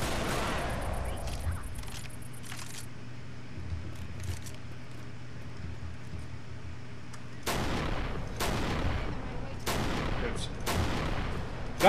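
Gunfire in the Left 4 Dead 2 game as players shoot at zombies: a sustained stretch of rattling automatic fire, then a pause, then a series of sharp, loud shots at irregular intervals, with game noise underneath.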